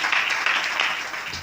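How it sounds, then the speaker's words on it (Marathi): Audience at a Warkari kirtan claps for the students, a dense continuous patter of many hands at moderate distance, steady and then easing slightly toward the end. "एकदा या विद्यार्थ्याकरता टाळी वाजवा आपण"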